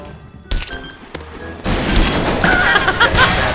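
Gunfire in Garry's Mod DarkRP: a rough, sustained burst of shots starts partway in and rolls on loud and dense, with a few sharper cracks on top, after a quieter stretch of faint game noise.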